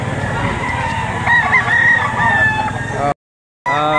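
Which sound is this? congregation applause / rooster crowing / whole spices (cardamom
rooster crowing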